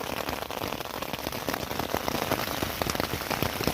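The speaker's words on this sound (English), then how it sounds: "It has been pouring buckets since 8 p.m." Heavy, steady rain drums on a tent overhead on the Appalachian Trail in Virginia, a dense continuous patter with sharper drops striking throughout, loud and close.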